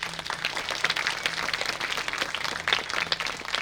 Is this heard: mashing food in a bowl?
no